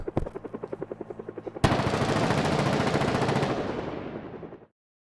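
A helicopter event in the video game Project Zomboid: a rapid, steady chopping pulse gives way to a sudden loud, dense roar that holds for a couple of seconds, then fades away.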